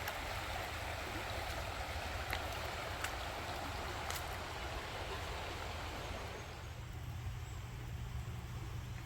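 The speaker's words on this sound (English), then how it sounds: "The river's just over there." A river flowing just beside a riverside campsite on a cycling trip along Ohio's towpath, a steady broad wash of moving water that continues evenly throughout, mid-distance and unbroken, with no talk.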